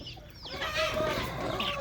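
Seelam fighting roosters cluck close by in a short burst of clucking and throaty calls, with no talk over them.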